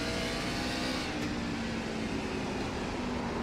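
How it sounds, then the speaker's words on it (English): A race truck engine held at heavy throttle before braking for a corner at Five Flags Speedway in a racing sim, a steady loud drone that stays even throughout, with no talk. "Listen to how much throttle he's trying to carry here right before he gets on the brakes to get into the corner."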